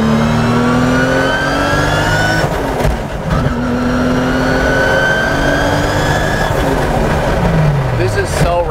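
The GReddy R33 Nissan Skyline GT-R's engine revs hard and loud up toward about 6,000 RPM, its sweeping pitch rising and falling at close range, with voices talking over it.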